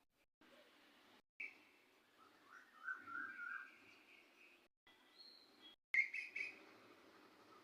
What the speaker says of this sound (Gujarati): જોયું ફ્રેન્ડ્સ, કોયલનો અવાજ કેટલો મીઠો છે